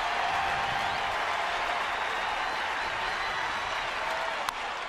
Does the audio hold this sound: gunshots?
no